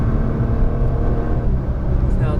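A car engine pulls hard on a Las Vegas race track, a loud continuous throaty drone heard from inside the cabin with little variation in pitch.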